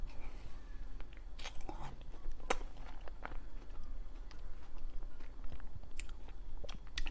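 Purple sweet potato yogurt ice cream bar being bitten and chewed close to the mic, a series of crisp crunches and bites spread irregularly over several seconds against a quiet background.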